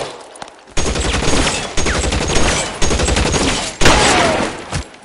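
Gunfire in the video game L.A. Noire: loud, dense bursts of rapid shots and fusillades, several distinct volleys over about five seconds.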